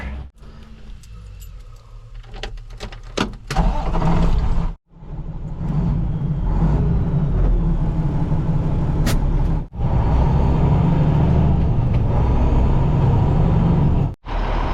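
A work truck's engine runs steadily during yard drainage work, a loud continuous mechanical rumble with a brief pause and short clanks and rattles early on.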